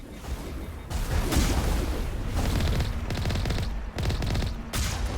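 Rapid gunfire and booming rocket explosions fill a Mass Effect Geth Incursion firefight on Insanity difficulty, dense and loud with sustained automatic bursts, brief pauses, and heavy impacts layered throughout.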